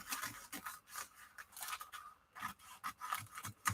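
Scissors snip through fabric tag material backed with heat-and-bond, a run of close, crisp cuts in irregular rhythm with short pauses between strokes, heard alone.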